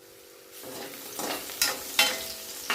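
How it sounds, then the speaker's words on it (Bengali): Soft frying of capsicum in a pan for a mixed vegetable dish, with a few sharp scraping strokes of stirring that grow more distinct toward the end; quiet and close, no talking. "এবার আমি ক্যাপসিকাম ভেজে নিচ্ছি"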